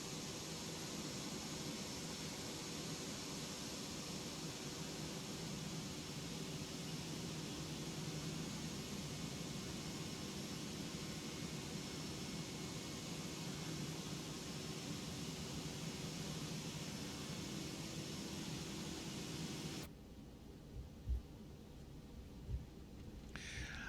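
ToLiss A319-112 airliner taxiing in X-Plane 12, a steady broadband engine roar and hiss that holds constant, then drops abruptly near the end to a quieter hum with a few soft thumps.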